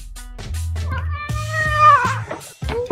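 A cat meows loudly and close, several drawn-out, rising and falling calls in quick succession.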